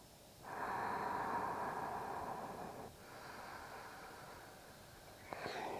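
Slow, deep breathing during a gentle morning yoga neck and shoulder stretch, a long soft airy exhale followed by a quieter, steadier breath, close and faint with no talking.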